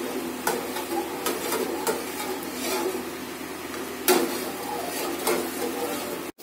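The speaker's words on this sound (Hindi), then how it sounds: "अब हम ये दूध बॉईल करेंगे।" Milk, about 1.5 kg, heating in a pot for homemade paneer, with a steady low bubbling simmer and occasional scrapes and clinks of a spoon stirring against the pot, close and moderately loud.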